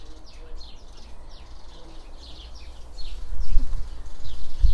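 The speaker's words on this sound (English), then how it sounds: "I just want to be entertained by the house sparrows" House sparrows chirping in a garden, a run of short repeated high chirps at moderate distance over low background noise, with some closer rustling thumps toward the end.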